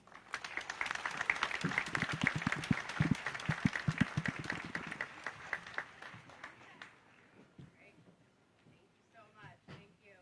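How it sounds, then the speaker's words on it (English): An audience applauds donors and riders at a Make-A-Wish charity event at Carowinds, several seconds of dense clapping with cheers that gradually fade out, followed by scattered talk. "Let's give one last round of applause to these individuals and to the 48 individuals and riders next to me that donated to this incredibly wonderful cause"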